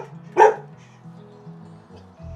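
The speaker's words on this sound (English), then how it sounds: "This is our guard dog." A guard dog at a house gives one sharp, close bark, followed by faint whimpering tones and quiet background.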